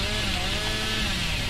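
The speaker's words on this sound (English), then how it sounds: "We need to use chainsaw here." A Hillbilly's chainsaw from the video game Dead by Daylight roars in a steady, dense, unbroken buzz, loud and continuous throughout with no speech over it.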